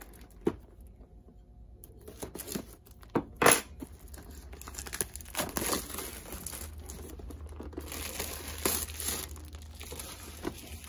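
Plastic packaging on a new acrylic paint set crinkles and rustles in quiet, uneven bursts, with a sharp tearing crackle near the middle and no speech.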